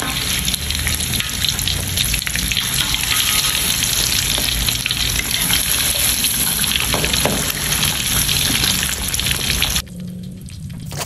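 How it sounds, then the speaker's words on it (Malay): Loud, continuous sizzling and crackling of fish frying in hot oil in a wok, a dense steady hiss that drops off sharply near the end. "kita boleh masukkan ikan satu persatu ke dalam kuali untuk kita menggoreng."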